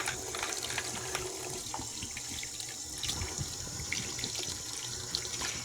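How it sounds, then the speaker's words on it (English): Breast pump parts are rinsed under a running tap, giving a continuous close splash of water into a sink that holds steady with small splatters and no voices. "then I'm going to rinse them really well"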